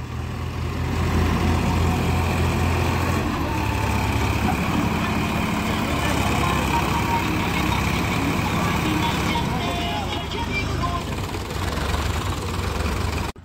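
An England-made Ford tractor engine runs steadily at a farm site, a loud continuous low rumble and chug with faint voices mixed in underneath.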